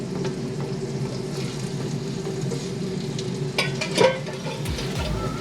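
Kob fish fries in a pan with a steady low sizzle over a background hum, and a brief louder clatter comes near the end, with no talk.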